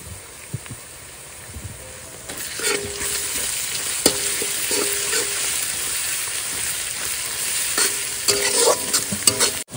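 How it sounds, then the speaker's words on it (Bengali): Garlic fries with onions in a pan over an outdoor fire by a Sundarbans river, a steady close sizzle with scraping stirs and occasional clinks of the spatula against the pan. "এবারে রসুনটা দেবো, রসুনটা একটু ভেজে নেবো"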